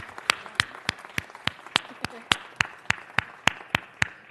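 At a city council meeting, scattered, evenly spaced claps ring out, sounding like a few people or a small group clapping steadily in a roomy space with little crowd noise.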